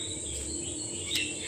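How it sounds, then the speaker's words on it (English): Birds chirp softly in the background over a steady insect-like hum, with one brighter, sharper chirp near the end. "maybe you can hear the birds are chirping"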